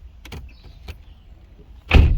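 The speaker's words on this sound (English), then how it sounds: "Can you close the door?" A car door closes with one solid thump near the end, preceded by faint clicks and small interior mechanism sounds inside a parked car.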